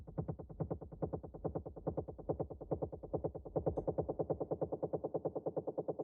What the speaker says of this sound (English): So then there's this second layer, which is the same kick.